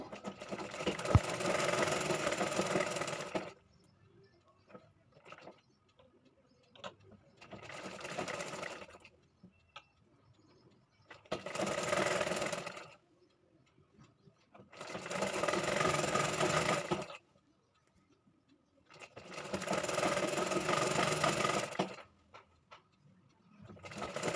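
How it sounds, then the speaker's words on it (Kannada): Sewing machine stitching the side seam of a nighty, running in five steady bursts of several seconds each with quiet gaps between, close and clear. "ಇವಾಗ ಹಾರ್ಮಲ್ ಹತ್ರನೂ ಸ್ಟಿಚ್ ಮಾಡಿ ಆಯಿತು ನೋಡಿ ಈ ರೀತಿಯಾಗಿ"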